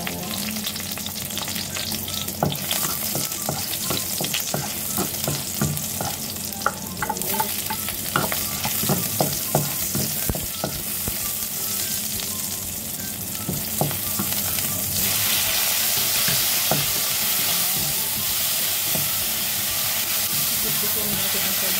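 Garlic sautéing in hot oil in a stir-fry pan, a steady loud sizzle with repeated scraping stir strokes throughout, the frying hiss swelling broader and brighter toward the end.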